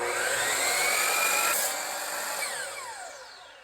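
A miter saw cuts through a wooden block. A loud, high whine with a gliding pitch peaks in the first second and a half, then winds down gradually as the blade spins to a stop, with no talking.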